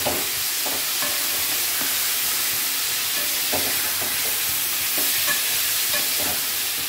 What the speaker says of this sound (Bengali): এবার আমি এর মধ্যে বেগুনগুলো দিয়ে দেবো